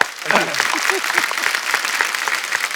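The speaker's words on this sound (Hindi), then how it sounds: "जोरदार तालियां" Loud applause from a crowd, dense clapping throughout, with a voice speaking over the start.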